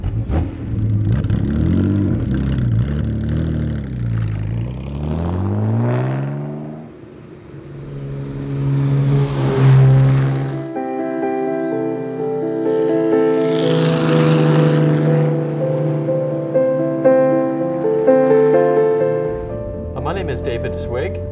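A 1953 Jaguar C-Type Le Mans Works Lightweight race car engine revs hard and close, its pitch rising and falling in repeated sweeps before settling into a loud, steady drive.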